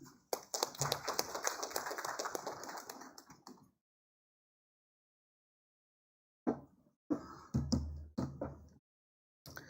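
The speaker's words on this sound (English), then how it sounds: "Please welcome with a round of applause." Scattered applause from a summit audience at a smart cities awards event: a dense burst of clapping for a few seconds, then quiet, followed by short, thinner rounds of claps.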